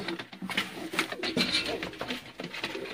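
Pigeons coo in a bird sale setting, soft repeated throaty calls rising and falling close by, overlapping one another with faint background rustle and no clear talk.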